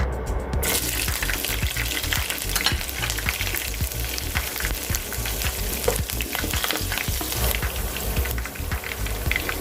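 Green chillies frying in hot oil in a pan while making beef pickle, a loud, dense, continuous sizzle and crackle that runs without pause, with no voices.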